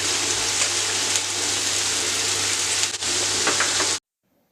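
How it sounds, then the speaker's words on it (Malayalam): Sliced onions with salt sautéing in coconut oil, giving a steady, dense sizzle and crackle close up that runs without a break and then cuts off abruptly. "പിന്നെ ഒരു 3 സവാള നീളത്തിൽ അരിഞ്ഞത് ചേർത്ത് കൊടുക്കുക. ആവശ്യത്തിന് ഉപ്പും ചേർത്തിട്ട് ഒന്ന് വഴറ്റിയെടുക്കുന്നുണ്ട്."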